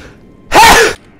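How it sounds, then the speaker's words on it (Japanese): A single loud, close sneeze bursts out for about half a second, sharp and breathy, with quiet room tone before and after. "めっちゃくしゃみ出そう。"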